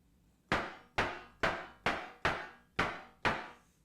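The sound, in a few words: synthesized snare drum sound from Behringer UB-XA synth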